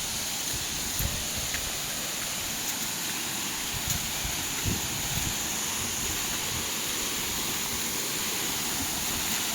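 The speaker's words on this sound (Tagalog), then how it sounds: "Papangalanan ko na ito ang falls na nowhere." Small waterfall pouring in a remote spot, a steady, even broadband rush of falling water with no breaks, fairly close and alone.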